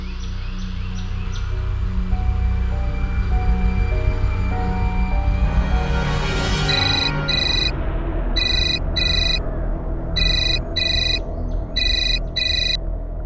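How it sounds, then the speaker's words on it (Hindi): A telephone rings in repeated electronic bursts, with a rising tone and a busy background beneath it, and no talking. "कौन जयदीप सिंह का फोन है?"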